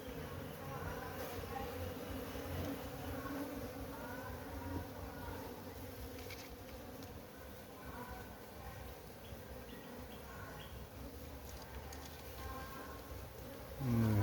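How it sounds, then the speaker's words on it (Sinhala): A honey bee colony hums inside a fallen kitul log on a tea estate, a faint, continuous buzzing drone that lasts throughout, with quiet rustling and a soft voice now and then. "ඔය ඉන්නේ මැස්සෝ"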